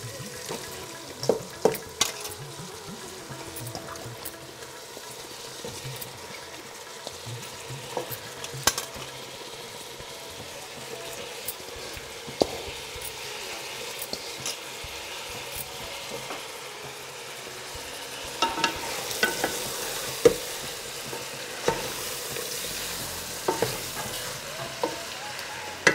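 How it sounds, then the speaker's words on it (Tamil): Chicken frying in oil with onion and tomato for a country chicken curry, sizzling steadily while a spoon stirs and scrapes the pan in repeated clanks, close and alone without talk. "இப்போ நம்ம சிக்கன் போட்டுக்கலாம்."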